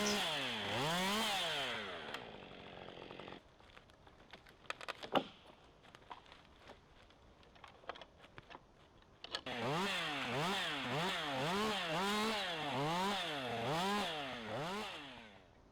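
A chainsaw revs in rising and falling bursts as it cuts the remaining branches off a felled trunk outdoors. Between the revving spells there is a quieter stretch of idling, knocks and footsteps, and then steady loud cutting resumes.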